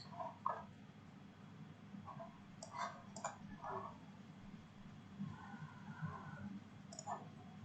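Sparse, faint mouse clicks from a computer being used to open a programming lab project, a few light ticks scattered over a steady low background hum.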